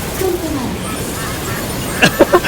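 Geese honking in the video game Limbus Company: after a stretch of talk, three or four short, loud honks come in quick succession near the end.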